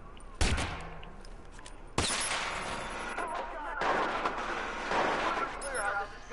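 Gunfire in the video game Watch Dogs: two sharp, loud shot bursts ring out, followed by sustained crackling fire and battle noise, while voices shout over the chaos.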